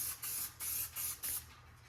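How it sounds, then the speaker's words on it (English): Quick hissing bursts of detailing spray sprayed onto a black car wheel rim on a 392 Challenger, four or five short close spritzes in a row with nothing else heard. "I spray a little bit on the rim too, just because they black, so they won't have that matte look"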